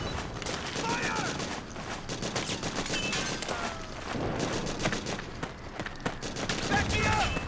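Dense video-game gunfire fills a Metal Gear Solid 4 battle, with rapid overlapping bursts and fusillades running continuously throughout, loud and close, while shouted voices call out under the shooting.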